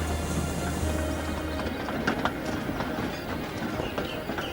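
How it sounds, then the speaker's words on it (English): A toy model train rumbles steadily along the track with rhythmic clicking of wheels over rail joints, loud and continuous throughout. "As they raced along the line, Rebecca couldn't catch up with Spencer,"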